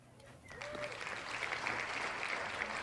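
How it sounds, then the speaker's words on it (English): Applause sound effect played when dice are rolled in an online tabletop game, a burst of crowd clapping that swells in and holds steady, moderately faint. "the stream can hear the clapping it gives me when I fucking roll this"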